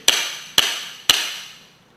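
A forearm strikes an object wrapped in heavy-grit sandpaper during arm conditioning: three sharp, evenly spaced impacts about half a second apart, each with a short decaying ring, close and loud with no talking.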